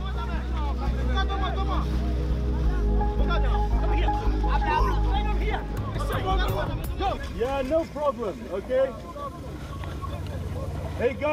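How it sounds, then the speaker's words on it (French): A boat engine drones steadily at sea off the Libyan coast, a strong low rumble under overlapping voices and shouts of several people nearby. "coupez votre moteur s'il vous plaît"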